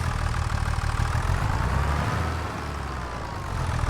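John Deere tractor in Farming Simulator 25, its engine idling with a steady low diesel rumble that dips briefly and then returns.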